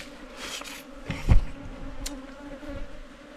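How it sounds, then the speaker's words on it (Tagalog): Bees swarm around a wild honey nest in a forest, a dense buzzing drone with one louder swell as an insect passes close, otherwise steady and moderately near. "Bubuyog na."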